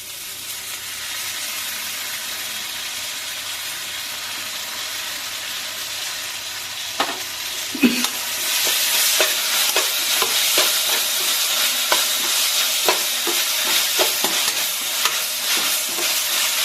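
Chili powder frying in a pan for a homemade veg burger filling, heard as a steady loud sizzle and hiss, with stirring scrapes and clinks that join in about halfway through.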